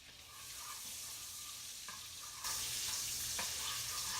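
Chopped onions sautéing in bacon grease and melted butter, a steady soft sizzle that swells louder partway through, with a couple of brief stirring scrapes.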